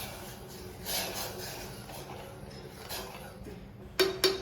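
Soaked rice being mixed into boiling salted water in a pot: a soft, steady bubbling wash, then two sharp metallic clinks of a spoon against the pot near the end.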